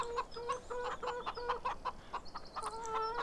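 Chickens in Farming Simulator 17 cluck in quick, repeated bursts, a few birds overlapping at moderate distance, with one higher squawk late in the sequence over quiet background.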